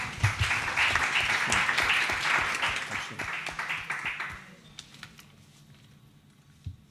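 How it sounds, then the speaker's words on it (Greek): Audience applause following a presentation at a literary society event in Thessaloniki, loud dense clapping for about four seconds that thins into a few scattered claps and fades. "ένα θερμό χειροκρότημα για την παρουσίαση"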